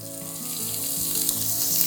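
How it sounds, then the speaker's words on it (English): Onion starts sautéing in a skillet, a close, steady bright sizzle and crackle of hot oil that holds constant while faint low tones sit beneath it. "You start to hear that sizzle."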